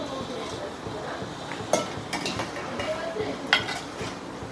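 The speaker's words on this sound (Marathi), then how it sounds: "आता मसाल्यामध्ये बटाटा आणि कोळंबी 5 मिनिटं तरी मस्त फ्राय करून घ्यायचं." A spoon scrapes and clinks against a pan while prawns and potatoes fry in masala, with a faint sizzle beneath, occasional sharper knocks, and a voice talking quietly in the background.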